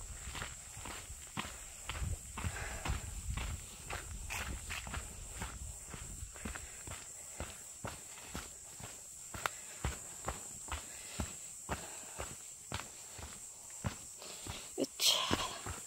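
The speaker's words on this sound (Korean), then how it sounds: "내 발자국 소리와 풀벌레 소리만 가득한 오봉산입니다." Footsteps descend the Obongsan mountain trail in Gangwon-do, Korea, a steady, evenly paced crunch of near steps over a constant high whine of insects.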